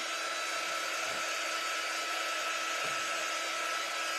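A hair dryer runs with a continuous, even whoosh, drying a craft transfer for a bunny-with-a-bow project; the airflow is moderately loud and steady throughout.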